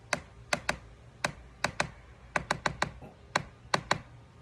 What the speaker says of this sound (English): This is the sound of a pencil tapping on my laptop on top of